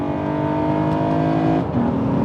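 A Honda Legend KB1 V6 engine revs hard into VTEC, its loud, steady harmonic wail holding, then briefly dipping and picking back up.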